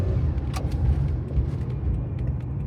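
Honda Z UM4 turbo kei car engine idling steadily after a timing belt and water pump replacement, a low continuous rumble heard from inside the cabin with windows closed, fairly quiet with no talking.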